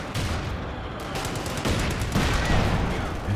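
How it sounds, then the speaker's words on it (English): Gunfire and explosive bursts from a Company of Heroes 2 1v1 battle, a rifle grenade among dense, continuous shooting and booms at steady loudness. "Ooh, rifle nade."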